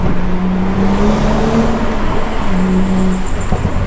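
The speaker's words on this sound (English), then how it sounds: "Third gear pull." Car engine pulling hard in third gear with a flashed transmission tune, a steady loud drone with rising tonal engine notes running throughout, close from inside the cabin.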